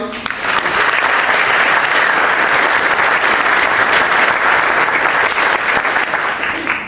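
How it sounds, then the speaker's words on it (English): Sustained applause from a large audience at a music strategy panel event in Sunderland, steady and loud throughout, with dense clapping and no pause. "Let's have a big round of applause"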